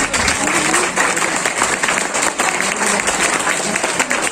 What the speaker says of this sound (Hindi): टोपाज लीडर आपकी जोरदार तालियों के साथ